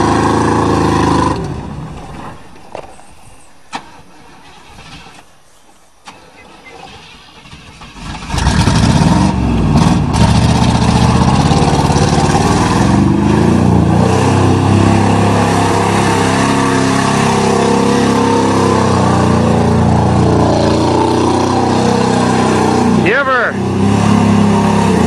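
A 1988 Chevrolet pickup with a 305 engine revs loud and hard while mudding, a quieter stretch with voices giving way to a sustained roaring engine that continues under occasional talk.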